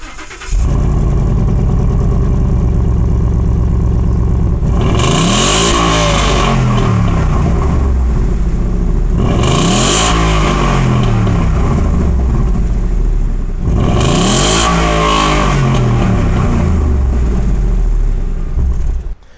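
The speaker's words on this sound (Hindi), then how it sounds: "एक बार आप सुन के देखिए कितनी सुंदर आवाज़ है इस कार की" A 2016 Ford Mustang GT with its 5-litre V8 revs loudly and close by: a deep idle rumble broken by three sharp throttle blips that rise and fall back, spaced evenly apart, with no talking.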